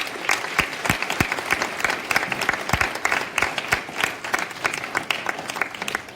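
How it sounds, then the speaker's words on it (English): An audience at a panel event claps for the panelists, a steady, moderately loud round of applause with distinct sharp claps from people nearby over a softer spread of clapping across the room. "Let's give our panelists one last round of applause."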